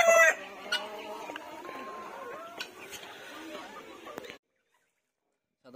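A white hen clucks softly at close range in a backyard coop, its short broken calls scattered over faint background clatter before the sound drops to silence.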